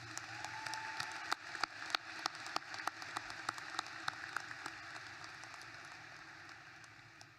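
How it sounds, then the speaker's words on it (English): Graduation audience applauding speakers at a high school commencement: dense, steady clapping from a large crowd, fairly distant and even, slowly tapering toward the end. "Please give them another round of applause."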